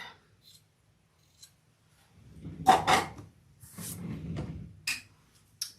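Scissors trim leather during sewing: a few crisp snipping cuts close by, separated by short pauses in an otherwise quiet room.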